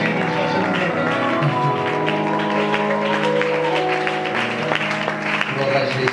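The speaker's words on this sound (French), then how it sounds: "avec vos acclamations et cris de joie" A church congregation claps and cheers in a steady, dense wash of applause, loud and sustained, with voices mixed in throughout.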